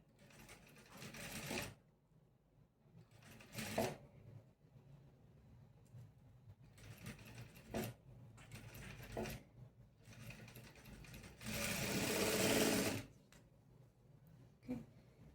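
A sewing machine stitches a three-dart blouse in separate bursts of rapid needle chatter, the longest and loudest near the end, with quiet pauses between runs.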